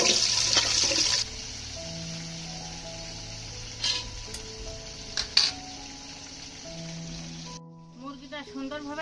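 Cut potatoes fry in oil in a wok, starting with a loud, bright sizzle that settles into a quieter hiss with a few clinks, and someone speaks at the end.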